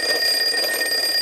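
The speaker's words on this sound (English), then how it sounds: "we're going to set until the alarm sounds" An alarm clock rings with a loud, steady electronic tone that stays continuous and close for the whole short stretch, with no speech over it.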